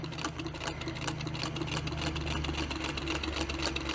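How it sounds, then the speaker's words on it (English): A sewing machine bastes a quilted placemat with a longer stitch length, its motor humming steadily with a rapid rhythmic needle clatter throughout, close and continuous with no pauses. "I'm just going to baste this in using a little longer stitch length."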